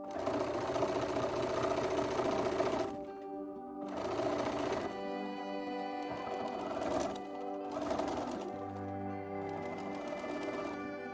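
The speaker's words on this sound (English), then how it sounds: "I'm going to take it to the sewing machine, and I'm going to stitch all the way around the circumference" A sewing machine stitches around the circumference of a dress overlay, running in steady whirring stretches close up with brief pauses between them and no talk.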